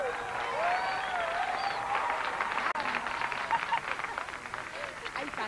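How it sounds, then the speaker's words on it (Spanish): An audience applauding for Marisol Calero at a televised stage appearance, sustained clapping and cheering from a crowd, fairly loud throughout, with a host's voice shouting and speaking over it. "Un aplausote para Marisol Calero."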